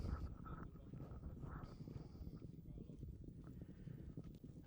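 Polo ponies' hooves thud in irregular clip-clop beats on the field during a British Open polo match, faint and distant under wind noise and soft background sound.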